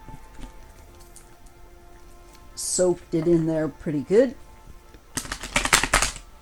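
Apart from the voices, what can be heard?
shuffling cards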